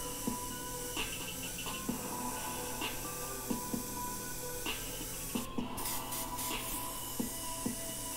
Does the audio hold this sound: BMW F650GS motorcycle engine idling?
no